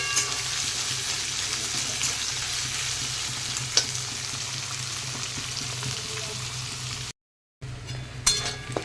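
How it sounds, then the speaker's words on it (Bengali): Chopped onion fries in hot oil with cumin, bay leaf and dried chili, giving a continuous close sizzle broken by occasional utensil clinks and stirring scrapes, with a short break near the end. "আর এরপরে দিয়ে দিলাম কুচানো পেঁয়াজ পেঁয়াজটাকে একটু ভালো করে ভেজে নেব"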